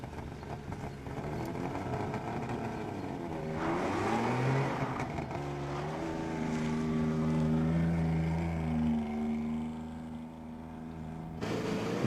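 A front-wheel-drive DKW car stuck in snow is pushed free while its engine revs and strains, the motor note rising and wavering for several seconds before dropping off, fairly close and moderately loud.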